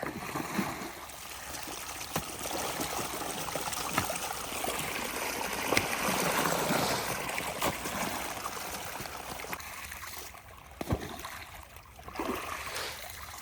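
Continuous rushing of canal water flowing through a field outlet, steady and fairly close, with occasional splashes and gurgles.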